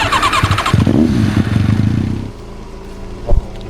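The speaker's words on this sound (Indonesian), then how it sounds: "Pakai motor main golfnya ya?" A motorcycle engine starts with a loud cranking catch and rough revving burst, then drops to a steadier low running note, followed by a single sharp thump near the end.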